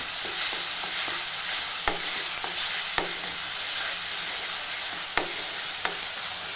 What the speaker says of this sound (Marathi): हिरवी मिरची, लसूण, मीठ आता हे तेलामध्ये चांगलं फ्राय करून घ्यायचं.